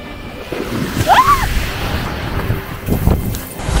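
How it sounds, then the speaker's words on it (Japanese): Ocean waves washing onto the shore at Ishigaki Island, heard close with a breaking surge and wind buffeting the microphone, plus a brief high squeak near the start. "みんなも気をつけてね、波は急に来ます。"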